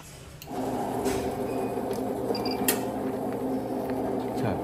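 A 2024 IPS-PCI-220 inkjet marking machine starts up and runs while printing expiry dates on large plastic bags. It gives a steady, close mechanical hum with tonal whine and a few faint clicks.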